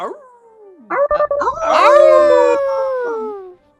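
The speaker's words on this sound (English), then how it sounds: "I can hear him howling downstairs" A dog howls in long, rising and wavering wails, heard from another room downstairs, loud and sustained for a few seconds after some short yelps at the start, with no talking over it.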